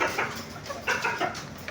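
An Asil gamefowl hen clucking amid farmyard noise, close by and fairly continuous, with short bursts of louder vocalising over a busy background.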